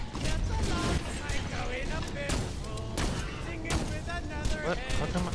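Continuous gunfire in the video game Borderlands 2, dense and loud throughout, with rapid shots blending into a steady barrage of layered game sound effects.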